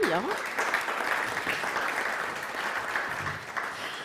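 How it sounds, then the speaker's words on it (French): Audience applause for guests being welcomed at a bathroom-industry conference, a steady even patter of clapping at moderate volume that persists throughout, with a brief voice near the start. "On peut les applaudir aussi."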